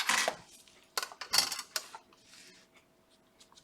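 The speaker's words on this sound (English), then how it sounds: "Now before I start, I'm just going to turn the Petri dish over and divide it into 4 quadrants." A plastic Petri dish is turned over on a lab bench, giving a few close, sharp clatters and taps in short bursts separated by quiet gaps, with no talk.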